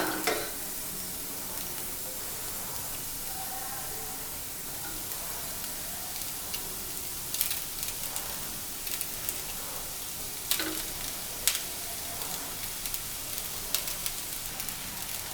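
Vegetables and rice stir-frying for vegetable fried rice, a steady soft sizzle with scattered clicks of a spatula against the pan, no talk.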